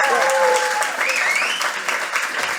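Audience applause during a live faith-based show, steady clapping from a crowd with a few cheers and whistled or voiced tones rising over it near the start.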